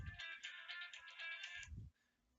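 A phone ringtone plays for about a second and a half in a quiet room, a bright repeating melodic chime, with a low thump before and after it.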